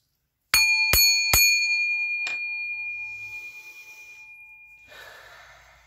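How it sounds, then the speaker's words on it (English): A metal bell is struck three times in quick succession, each strike a sharp loud clang ringing with a long sustained tone that slowly fades. A softer fourth tap follows, then light rustling and breathing close by. "I'm going to strike this bell 3 times, give it a loud ring"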